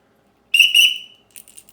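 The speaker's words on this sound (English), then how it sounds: "It's just like a whistle that your coaches would have had if you played sports in school" Survival kit whistle, similar to a sports coach's whistle, blown once in a loud, shrill, close blast lasting about half a second, followed by faint handling noises.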